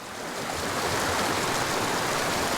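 A creek flowing beside its bank, heard as a steady, full rush of moving water close by, constant and fairly loud with no break or voices.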